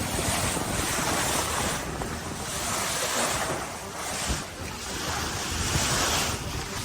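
Ocean waves surge around racing sailboats during The Transat offshore race, with a steady wash of surf and heavy wind buffeting the microphone, swelling and easing in rolling pulses and no voices.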